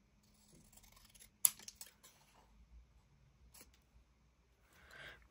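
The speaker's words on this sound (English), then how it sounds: "Let me just trim this down because this just looks..." Scissors trim paper for a sticker cluster with a handful of close, crisp snips, separated by quiet pauses and soft paper rustling.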